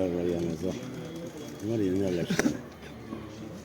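Tumbler pigeons coo in rounded, wavering phrases from nearby coops, repeated over a few seconds, with someone talking over and between the calls.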